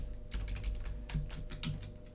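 Computer keyboard being typed on while entering HTML, a quick run of close, crisp key taps over a low steady hum.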